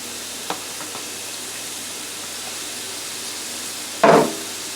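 Peppers and onions frying in a pan before cube steak strips go in, a soft steady sizzle with a few faint taps and a louder clatter near the end.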